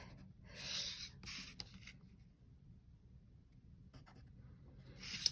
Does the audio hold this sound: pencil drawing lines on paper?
yes